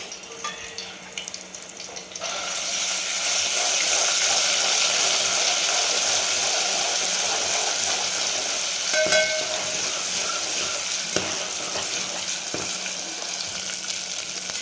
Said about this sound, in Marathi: हे पण आता तेल चांगलं कडक एकदम गरम झाल्यानंतर आपण याच्यामध्ये थोडंसं आलं लसूण, कोथिंबीर आणि हिरवी मिरचीची पेस्ट टाकून घेणार आहे.